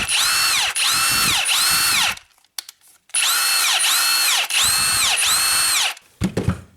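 A Milwaukee M18 FUEL 2763 cordless impact wrench runs free in two long, loud bursts with a short pause between them, the rapid hammering pulsing in a steady rhythm, and a brief clatter follows.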